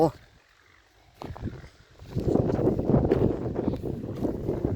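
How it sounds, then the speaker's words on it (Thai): Gusty wind buffets the microphone in a watermelon field, building to a strong rumbling roar after a quiet start, with someone talking over it. "วันนี้ก็ลมหน่อยเนาะลม"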